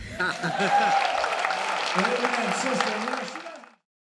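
A crowd applauds and cheers loudly for a 76-year-old performer, a dense wash of clapping mixed with voices and whoops that fades out near the end.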